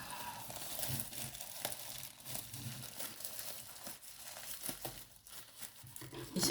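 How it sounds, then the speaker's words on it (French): Paper wrapping on a parcel crinkles and rustles as it is unwrapped by hand, giving close, irregular bursts of crumpling and tearing, with a person talking under it. "Et c'est encore enveloppé dans du papier juste après."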